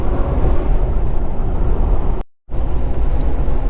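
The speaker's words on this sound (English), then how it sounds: "the wind was still blowing pretty good" Strong wind roars as a dense, steady rumble around the microphone near a highway by Willard, with a sudden short dropout midway before the buffeting resumes at full strength.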